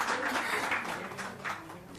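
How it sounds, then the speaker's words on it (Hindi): An audience clapping at a Hindi poetry stage event, a dense, continuous burst of applause that carries at a fairly even level throughout, close and full. "ताली बजाइए जोर से"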